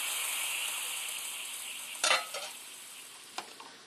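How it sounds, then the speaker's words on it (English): Cooked spaghetti drops into a hot pan of garlic and white wine, setting off a steady sizzle with a louder burst and clatter as the pasta lands, followed by a few short stirring scrapes. "I'm just going to add the cooked spaghetti to the pan."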